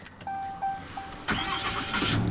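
A Ram 3500 Laramie dually pickup engine cranks briefly after a few soft chimes, then catches and settles into a steady, fairly quiet idle close by.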